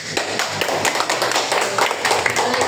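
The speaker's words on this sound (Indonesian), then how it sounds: "Tepuk tangan." A classroom of students clapping their hands together after a lesson answer, a short burst of uneven, fairly close claps with a loose, scattered rhythm and no speech.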